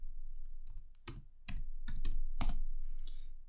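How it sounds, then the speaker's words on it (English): CSS code is typed on a computer keyboard: a handful of sharp, close keystrokes arrive in quick irregular bursts over a quiet room hum. "we go down here and we type dot About Me,"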